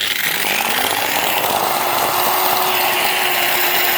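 A power sander with worn-out brushes runs steadily and loudly throughout, a harsh, rough whine with gritty crackling and a faint rising tone, close by and with no voices.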